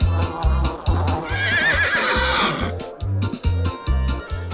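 A cartoon horse whinnies loudly and close over rhythmic thumping music, its neigh rising and trembling for a couple of seconds.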